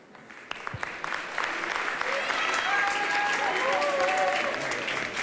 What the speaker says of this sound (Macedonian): Аплаузот на публиката, убавите коментари од жирито, аплаузот на кандидатите овде кажува се.